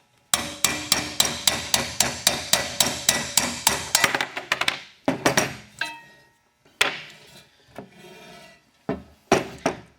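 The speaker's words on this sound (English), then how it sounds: "Insert your push rod through the hub and tap out that old bearing." Old wheel bearing on a harness-racing sulky wheel being tapped out through the hub with a push rod: a steady run of sharp metallic hammer strikes, about two per second, then a few scattered harder knocks, close and loud with no talk.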